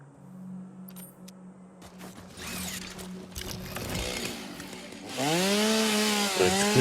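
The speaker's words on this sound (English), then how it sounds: "Right, do I have my chainsaw? I need my chainsaw." A chainsaw clears land in Satisfactory, first idling low, then revving in bursts and climbing into a loud, sustained high-pitched cut toward the end.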